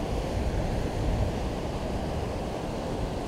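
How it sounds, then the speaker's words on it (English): Strong wind roars steadily along the Rhine on a December bike ride, a dense, unbroken rush with gusty swells and microphone buffeting, loud and continuous with no voices. "Wind's picking up behind me."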